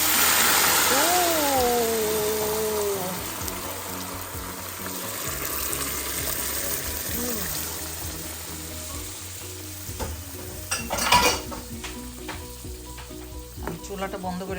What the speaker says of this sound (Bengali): এই তো এখন দিয়ে দিব বাগারটা।